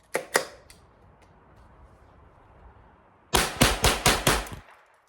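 A .22LR rifle fires Remington Golden Bullet rounds: two sharp close reports at the start, a quiet gap, then a fast run of five or six shots in quick succession.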